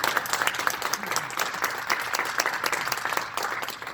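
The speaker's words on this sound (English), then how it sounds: "let's give Ruby another round of applause." An audience gives a round of applause during an interview event, dense continuous clapping with sharp individual claps throughout, close and fairly loud, with no talk over it.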